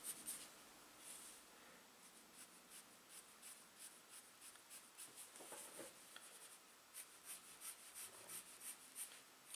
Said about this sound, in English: Also clean up the edges with the pencil.